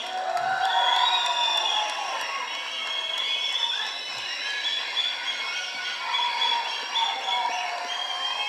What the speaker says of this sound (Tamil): ஒரு நல்ல கைத்தட்டில் கொடுக்கலாம்.